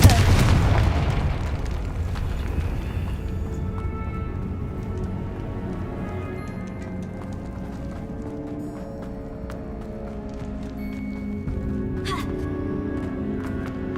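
A Confringo blasting spell explodes in Hogwarts Legacy with a heavy opening boom that fades into a long rumbling decay, and a smaller sharp burst follows later, all over a steady game ambience.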